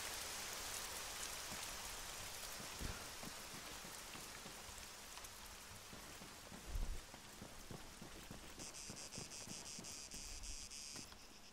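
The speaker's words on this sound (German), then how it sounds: "Der Regen hört auf." Rain falls steadily in the Arma 3 video game, a quiet, constant patter mixed with chirping insects and a faint low rumble, with no voices.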